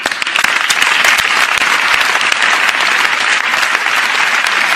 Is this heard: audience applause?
yes